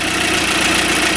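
A warmed-up car engine with a Январь 7.2 ECU, Euro 2 tuning and a single oxygen sensor idles. Valve clearances are set to maximum and one cylinder is suspected of knocking with no compression. It gives a steady, loud, continuous rumble throughout.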